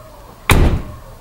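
A Dacia Logan car door, refitted with an extra Duster facelift door seal, closes in a single close, muffled thump that fades over a fraction of a second.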